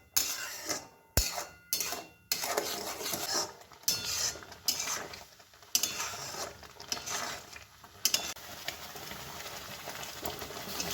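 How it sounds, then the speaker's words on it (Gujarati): A spoon scrapes and clinks around a pan of pizza gravy seasoned with oregano and chili flakes, the stirring coming in close, uneven bursts with soft bubbling beneath and no talk. "હવે એને સતત હલાવતા રહીશું કે જેનાથી પાણી જલ્દી બળી જશે।"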